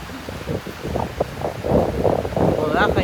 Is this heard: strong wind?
yes